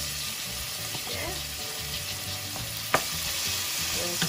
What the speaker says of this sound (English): In here, that's sizzling